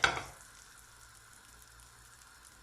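Butter melts in a pan with a soft, steady sizzle and fine crackle, starting with a brief louder hiss that settles into a quiet, even fry.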